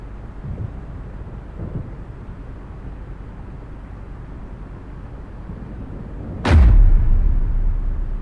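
A single loud firework explosion booms in the video game AI: The Somnium Files, breaking a low, steady rumbling background and leaving a long, deep roll that fades slowly.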